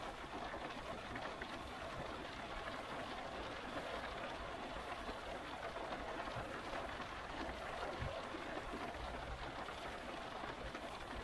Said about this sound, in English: so the rain mostly passes by,